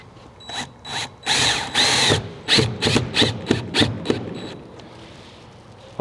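A power drill drives flat-head screws through a new-construction window's frame into the wall, giving about a dozen short, loud whirring bursts in quick succession, each ending with a bite as the screw seats, recorded close up.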